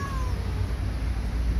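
An older cat during mating season gives a short, faint meow near the start, over a steady low background rumble.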